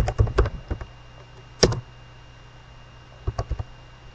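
Computer keyboard keys clack in short bursts while a Cisco IOS router command is typed. Clusters of close, crisp clicks are separated by a long pause in a quiet room.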